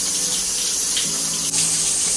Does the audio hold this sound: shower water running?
yes